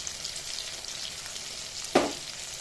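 Steady sizzle of pointed gourd frying in a pan with tomato paste, salt and turmeric, with a sudden louder hiss and splat as poppy seed paste is dropped in near the end.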